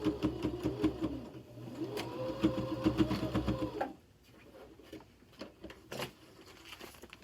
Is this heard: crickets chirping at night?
no